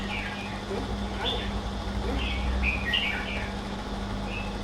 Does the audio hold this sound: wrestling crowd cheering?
no